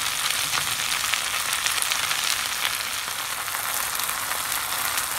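Onions and fresh fenugreek (methi) leaves fry in a pan over medium-high heat, giving a steady, close, even sizzle with no talking.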